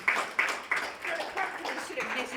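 Seminar audience clapping in a room, a short burst of applause with a few sharp claps at the start settling into a moderate, even patter.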